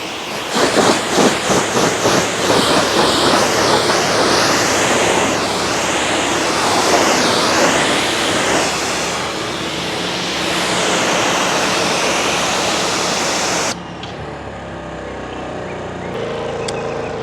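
Strong water spray hits a freshly ceramic-coated car during its first wash, a loud, continuous rushing hiss that wavers as the stream moves, then drops to a softer spatter near the end.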